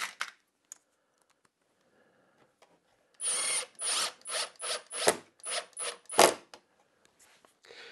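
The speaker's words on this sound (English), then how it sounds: "I'm going to put these big flat-headed washer screws in there, and that'll drive that" Big flat-headed washer screws driven into a wooden router planer jig, a burst of repeated short whirring power-driver pulses, close and loud after a quiet start.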